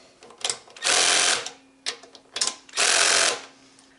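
A wrench tightening carburetor bolts on a Honda GCV160 engine, making two long ratcheting whirs nearby, each with a few quick clicks before it.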